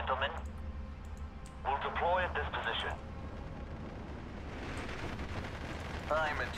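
Artillery fire in the WWII strategy game Steel Division 2, in a D-Day scenario with a German airborne division: a steady low battle rumble with swelling broadband blasts, under intermittent voices talking.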